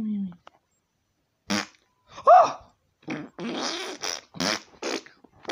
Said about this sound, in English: Can you please stop farting?